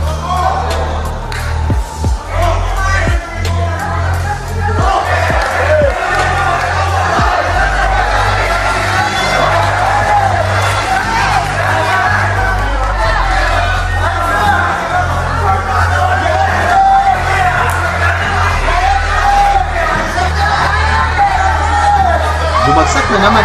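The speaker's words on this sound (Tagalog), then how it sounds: "sigawan ang mga fans ng Hapon nang bumawi ang kanilang pambato" Japanese boxing fans shout and roar throughout a live bout, a dense continuous crowd din of yells, whoops and babble swelling in waves, loud and close throughout.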